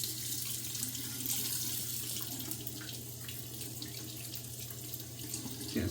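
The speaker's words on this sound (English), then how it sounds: "Getting some hot water on it, heating up that blade a little bit." Hot water runs steadily from a tap onto a Schick Proline razor blade in a sink, a continuous close splashing hiss with no talk.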